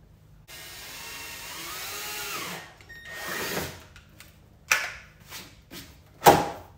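A drill bores a hole through a car bumper during a tire spat fitting on a Honda CRX, heard as a steady whine for a few seconds followed by several short, sharp bursts and clicks.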